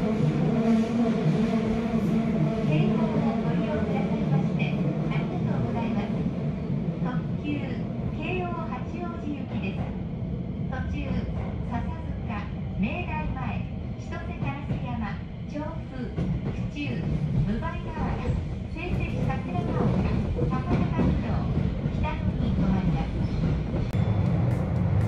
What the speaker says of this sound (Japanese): さあ新宿を発車です。